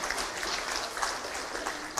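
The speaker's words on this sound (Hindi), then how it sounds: "एक बार जोरदार तालियों के साथ हम उन खिलाड़ियों का सम्मान करें" Applause honoring athletes at a sports policy launch ceremony, a brief steady wash of many hands clapping in a large hall, moderately distant and unbroken.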